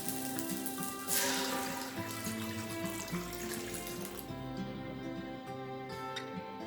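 Water poured from a vessel over chunks of vegetables, including beans, in a pot for avial, a steady close splashing pour lasting a few seconds against quiet kitchen background, with no talking.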